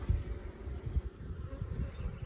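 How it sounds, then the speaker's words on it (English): Honey bees buzz close by in a low, wavering drone, several insects overlapping with no one speaking. "So you see right here these bees that are drinking nectar."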